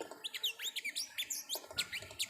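Loud, rapid chirping and squeaky calls from a nearby bird in the Philippines, repeating in quick bursts with no one talking.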